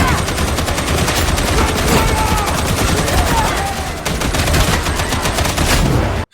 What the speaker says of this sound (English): The first long gun you can get in Darktide, the Infantry Autogun, IAG for short